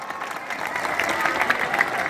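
Applause for a student at a school and college event rises gradually into steady clapping from a gathered crowd, lasting about two seconds.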